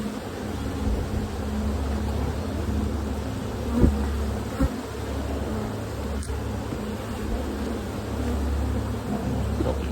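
Honey bees swarm around hive frames of brood with a dense, continuous buzz close by, steady throughout, with a couple of faint knocks.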